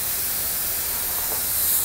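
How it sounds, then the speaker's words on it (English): Hydrographic film activator sprayed from an aerosol onto film floating on water, a steady continuous hiss filling the whole moment at close range, with no talking. "as we spray it with the activator"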